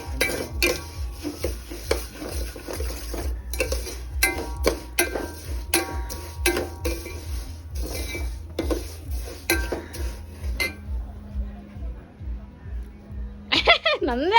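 A spoon scrapes and clinks against a pot of home-cooked biryani, repeated stirring strokes close by and fairly loud, with people talking throughout.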